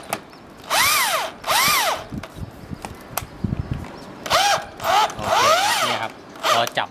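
A cordless power drill drives screws into UPVC roofing sheets, giving several short whining bursts that rise and fall in pitch, separated by brief pauses and a few clicks and knocks.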